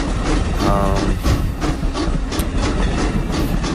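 Stephenson's Rocket, an early steam locomotive, running at about 22 mph in a train simulator game, with a dense, loud, continuous rumble and clatter of the engine and wheels, close up and steady throughout.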